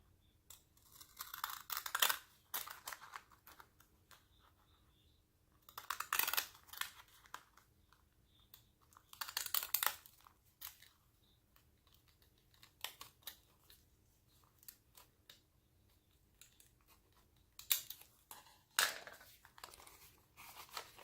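Fancy scissors cut through a paper treat bag in several short, close snipping and crinkling bursts separated by quiet pauses.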